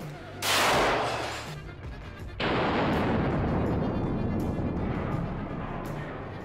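A powerful rifle is fired at a broken tungsten plate: a loud, close blast at the start, then a second sharp report as the metal shatters, followed by a long rumbling, crackling decay with no talking.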